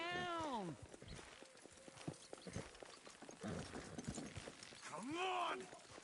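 Steady clip-clop of horse hooves in a Western video game, rhythmic and mid-distance, with neighs at the start and end and a voice talking over the hoofbeats.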